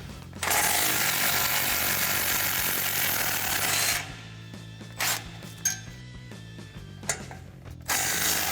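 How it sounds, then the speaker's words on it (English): A 14 mm socket on a ratchet removes exhaust bolts from a Toyota Tundra during a Borla Touring dual exhaust install. A loud, continuous burst of ratcheting runs for about four seconds, followed by short, separate clicks and turns. "same 14mm socket for these 2 bolts as well."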